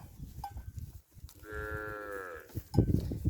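A single cow moos once in a drawn-out low call lasting about a second, close by, amid scattered rustling and handling noises in a field where cattle are herded to graze.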